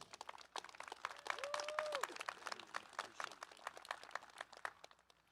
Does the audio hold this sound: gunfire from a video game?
no